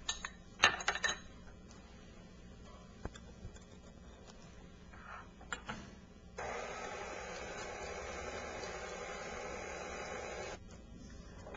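A few quiet clinks come first. Then a stand mixer at slow speed hums steadily for about four seconds, mixing cake batter with chopped bonbons and vanilla essence for a strawberry pie, before it stops.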